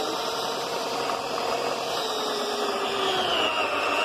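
Electric motor of a recumbent electric trike running below full power, its tire slightly dragging at one spot, giving a steady, even whirring hum with a faint whine rising near the end.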